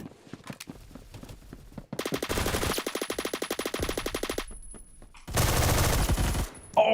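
A G36 rifle in a Roblox shooter fires from the hip in two long rapid bursts, the second after a short pause, with loud crisp full-auto cracks.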